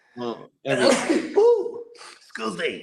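A single sharp sneeze bursts out close by amid people talking, with chatter continuing before and after it.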